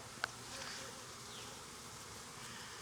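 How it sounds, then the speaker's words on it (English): Italian honeybees crawl over a hive frame, giving a faint, steady, close buzzing hum with one tiny click near the start and no voices. "when I get a frame of bees a lot like this"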